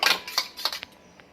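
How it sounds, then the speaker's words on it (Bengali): A single egg beaten with a pinch of salt in a bowl: a quick burst of light metallic clinks and taps, several strokes close together, then slowing to a couple of isolated ticks. "ডিমটা এবার সামান্য নুন দিয়ে খুব ভালো মতো ফেটিয়ে নেব"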